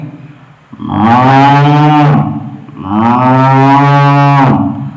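Someone imitates a cow in a State Kalolsavam mimicry performance, giving two long, loud, deep moos one after the other, close by, with a short breath between them.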